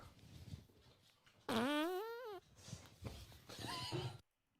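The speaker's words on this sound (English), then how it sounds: "The greatest fart I ever did." A recorded fart played back loud, a single long rippling blast with a rising and falling wavering pitch, framed by quieter background sounds before and after.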